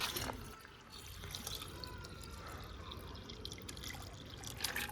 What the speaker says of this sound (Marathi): इसमें पानी डालते